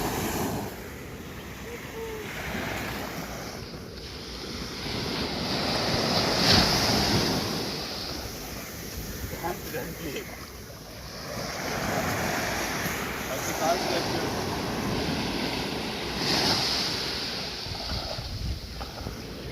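Ocean waves at Ullala Beach: surf rolls and washes in continuous swells, with strong wind buffeting the microphone. A person speaks intermittently over the roar.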